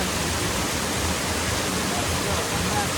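Lihonjar Waterfall in Karbi Anglong, India, pours as a steady, close, broadband roar of rushing water that holds an even level throughout, with no distinct voices standing out.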